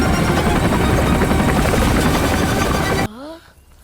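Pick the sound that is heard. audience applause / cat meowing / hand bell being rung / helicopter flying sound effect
helicopter flying sound effect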